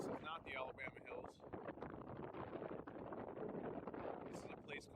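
Strong wind gusts buffet the microphone at the Trona Pinnacles desert rock formations, a steady loud roar with rumbling low-end bursts throughout, with faint voices partly blending into the blustery noise.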